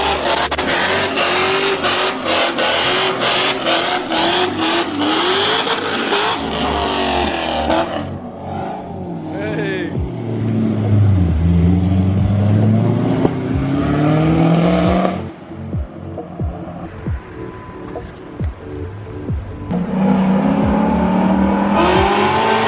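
A first-generation Cadillac CTS-V doing a burnout, close and loud, with hard revving, a rough idle and then a long high-rpm howl as the tires spin, followed by more revs.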